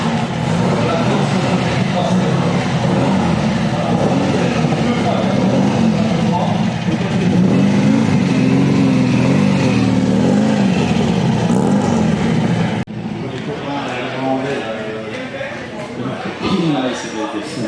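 Rally race cars roar past at a Belgian rally event in Momignies, a loud steady engine drone that swells and fades, with a sharp cut near the end and a quieter passage after, people talking underneath.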